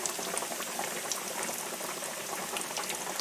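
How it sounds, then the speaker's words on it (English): Pork chops frying in a pan of hot oil give a dense, even crackle and bubbling hiss, loud and continuous throughout, with no talking. "we're going to let them fry for a few minutes on each side"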